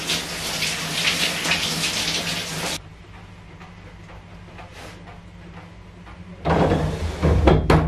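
A shower running in a small home bathroom, a loud broadband water hiss that stops for a few seconds, then resumes with splashing and a few clunks.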